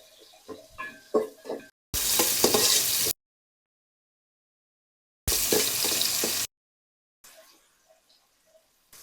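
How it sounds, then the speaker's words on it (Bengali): Bursts of loud sizzling as meat fries with garam masala in plenty of hot oil, two long spells of crackling hiss separated by silence, with light clinks of stirring. "ভাজা ভাজা হোক"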